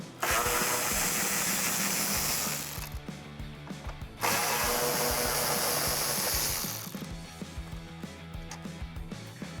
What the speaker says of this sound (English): Now there are 2 more 10mm bolts located on the side as well. Remove those.